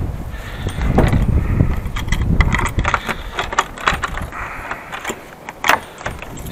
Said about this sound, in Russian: А ключи-то я взял.